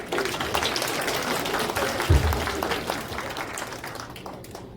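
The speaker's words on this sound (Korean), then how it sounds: "박수 한번 쳐주세요." An audience at a veterans' security forum claps in a dense, even patter that carries on for several seconds, then slowly thins out.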